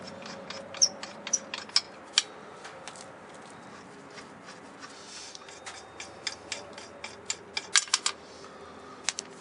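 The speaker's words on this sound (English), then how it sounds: "Now we're just going to loosen up these lug nuts with our fingers." Lug nuts on a trailer wheel being loosened by hand, a quiet series of small metallic ticks and clicks in irregular clusters, close and faint, with no talking.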